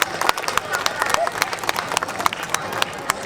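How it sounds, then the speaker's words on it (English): Crowd clapping along a parade route at an apple festival's grand finale, a dense outdoor patter of hands with sharper individual claps popping through, steady for several seconds with people talking underneath. "How about a nice round of applause?"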